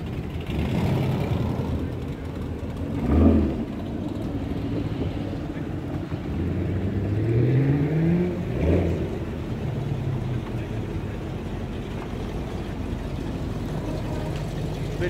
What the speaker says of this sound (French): Belle Corvette C7.